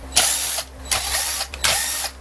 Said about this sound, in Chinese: 那我先把电池拆下来